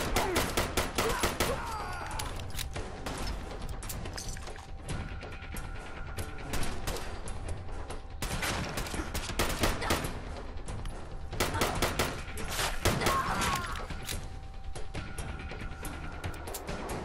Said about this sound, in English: Somebody keeps shooting at me.